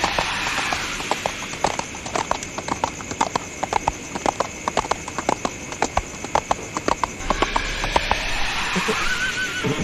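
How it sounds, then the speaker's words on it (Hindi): Horse galloping as a horror-story sound effect: steady, close, rapid hoofbeats run throughout, with a neigh or whinny near the end. "जितने तेज़ी से रामा का घोड़ा भाग रहा था उससे तेज़ ही चुड़ैल उसका पीछा कर रही थी।"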